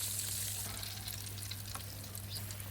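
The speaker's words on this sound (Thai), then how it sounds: "เอาละครับทอดพอ ปลาทูเหลืองนะครับ ทั้ง 2 ด้านแล้ว" Mackerel fries in hot oil with a steady, dense sizzle and faint crackles, close and even, with no talking.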